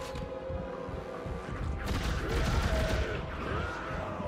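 Weapon fire in the sci-fi horror shooter Dead Space 3, with bursts of gunshots and crashing impacts that swell in the middle of the stretch over a constant background rumble.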